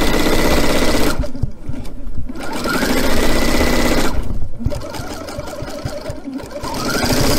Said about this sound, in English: just let the walking foot draw that fabric together